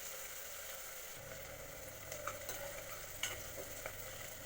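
Onions fry and get stirred in a pan for a South Indian chicken dish, browning over high flame: a steady close sizzle, a low hum entering after a second, and scattered scraping clicks from the spoon, with no talk.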